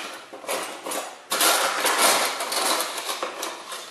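Metal cutlery clatters and jingles at a kitchen sink as someone rummages through it for a small spoon, bursts of bright scraping and clinking rising and falling in quick succession.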